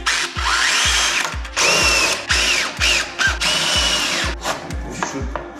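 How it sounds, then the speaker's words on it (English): A power drill drives a screw into a bar during a van water-system build, whirring in repeated short bursts, roughly ten pulses in a steady start-stop rhythm with squealing bites between them, close and loud. "So I'm going to screw this bar here"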